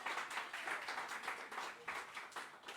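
An audience applauding for Emily at a foundation event, a continuous patter of many hands clapping with pulsing swells, moderately loud and steady across the whole stretch.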